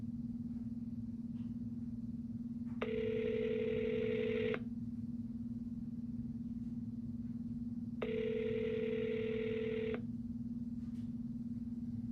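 Telephone ringback tone while calling again, two long beeping bursts separated by a pause, quiet over a constant low electrical hum.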